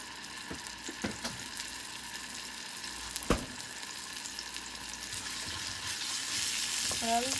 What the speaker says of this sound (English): it's olive oil. You don't want it to be frying too much